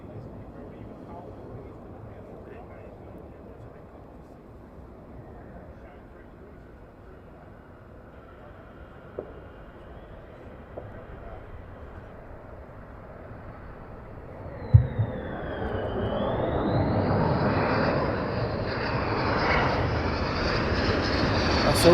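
A military aircraft landing at RAF Lakenheath starts as a faint distant rumble, then swells sharply midway into a loud, rising jet roar with a sweeping whine, while someone talks over the quieter opening.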